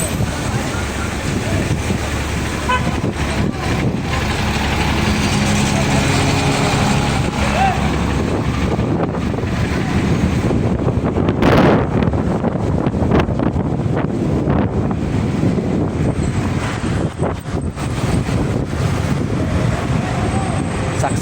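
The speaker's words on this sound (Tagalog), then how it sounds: "Lakas ng hangin ah." Strong wind blows outdoors near the Bayfront Hotel in Cebu, roaring steadily into the microphone throughout, with low rumbling buffeting and a sharp gust in the middle, and faint background sound.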